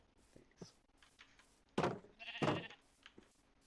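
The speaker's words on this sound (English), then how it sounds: "This is my one sheep that I was able to find that we shear and get the wool" A sheep in the video game Minecraft bleats twice in quick succession, two clear, fairly loud cries over a quiet background with a few soft ambient noises.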